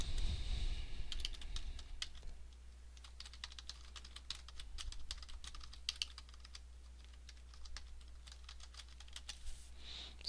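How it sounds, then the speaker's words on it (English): Steady typing on a computer keyboard while filling in an About Me section of an online church profile, with rapid clustered keystrokes and short pauses throughout, close and clear with no talking. "type in some information about you"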